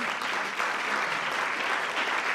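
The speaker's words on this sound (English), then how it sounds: "How about a round of applause for our speaker?" Audience applause at a National Press Club luncheon, a dense, steady wash of many hands clapping at once, fairly loud and sustained throughout with no talk over it.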